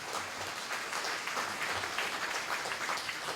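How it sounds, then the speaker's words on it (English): A political rally crowd in St. Kitts and Nevis claps after a victory speech, a steady, fairly faint wash of many hands clapping at a distance, continuous throughout without a voice on top. "Give yourselves a round of applause because you have done it."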